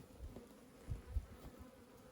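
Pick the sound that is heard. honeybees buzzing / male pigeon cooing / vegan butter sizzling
honeybees buzzing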